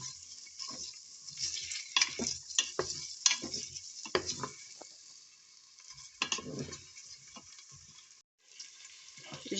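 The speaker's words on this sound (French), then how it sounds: "je préfère faire dorer mon chorizo dans un peu d'huile d'olive" Chorizo browns in a little olive oil inside a Cookeo pot, crackling and sizzling close up, broken by repeated scraping stirs of a utensil against the pot and a brief pause near the end.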